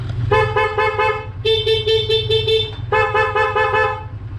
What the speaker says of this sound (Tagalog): bumubusina na yan